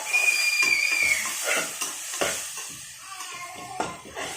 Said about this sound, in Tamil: ஒரு 2 மினிட்ஸ் நல்லா வதங்கட்டும்.